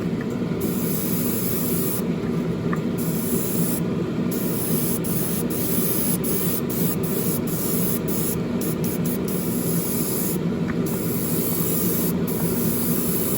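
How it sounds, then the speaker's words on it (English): Spray paint being applied as a light mist coat onto a plastic 1967 Chevrolet Impala model car kit, a steady continuous hiss of the aerosol with brief gaps between passes, close and alone without talk. "First coat should be just a mist coat, really."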